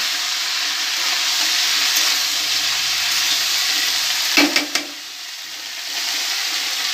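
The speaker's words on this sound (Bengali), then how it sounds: "আর এটা আমি একটু নাড়া দেবো।" Yardlong beans being stirred in a hot pan, giving a steady frying hiss. A couple of quick utensil knocks come near the end, and then the sizzle drops quieter. No voices.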